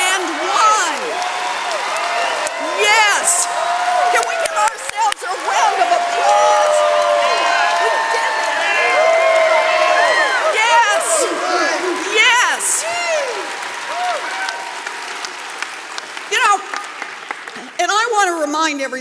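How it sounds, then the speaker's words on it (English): A large crowd at an Our Revolution rally in Boston bursts into sustained loud applause with cheering and whoops, the roar holding steady for many seconds before tapering off near the end. "Can we give ourselves a round of applause?"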